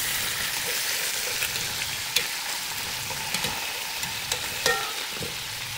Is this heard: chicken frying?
yes